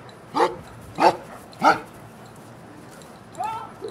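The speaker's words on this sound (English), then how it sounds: "I got both beagles barking at you today" Beagles barking outdoors: three sharp, evenly spaced barks up close, then a pause before a softer, whining bark-like yelp near the end.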